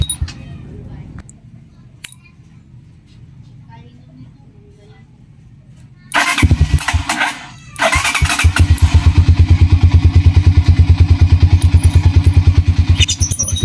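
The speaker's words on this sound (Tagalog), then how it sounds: "kung makikita nyo o maririnig nyo, umandar na siya mga kapindot." A Euro Vperman 150 motorcycle engine cranks and catches after a quiet stretch, then settles into a loud, steady, rapid idle chugging close by.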